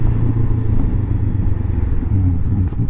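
Honda CB500X motorcycle climbing a mountain pass in second gear, its engine a steady low rumble with wind noise throughout, close and loud, no talk.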